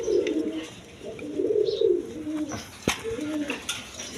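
Red Shikor pigeons coo in low, rolling phrases close by, the calls rising and falling in repeated bouts, with a sharp tap and faint rustling between them.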